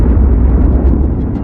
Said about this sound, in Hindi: बीच के इस भयंकर दबाव के कारण एक विशाल विस्फोट हुआ, और इसी विस्फोट के कारण हमारे सूरज का जन्म हुआ।